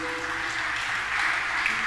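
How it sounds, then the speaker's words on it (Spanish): Church congregation applauding, a steady wash of many hands clapping at moderate volume with a faint background tone, continuous throughout the short moment. "Dale un aplauso al Señor."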